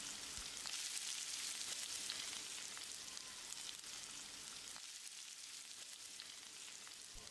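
Chicken masala gravy with added water simmers and sizzles in a pan, a steady close bubbling hiss running continuously without talk.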